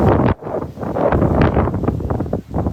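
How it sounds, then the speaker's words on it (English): Strong wind gusting on a beach at a Cap Cana resort, buffeting close and loud in uneven surges with brief lulls, no voices. "it's definitely windy"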